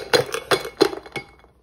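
A drinking glass is handled in a kitchen while a milk drink is being made, giving four or five close, clear clinks at a steady pace that fade toward the end.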